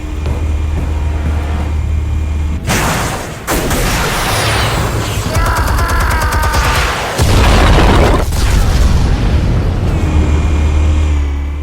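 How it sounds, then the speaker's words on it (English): Loud explosions rumble through a Batman Telltale video game scene, with several deep booming blasts, crackling debris and layered game sound effects that swell and continue over a sustained roar. "Explosives armed. Fire when ready."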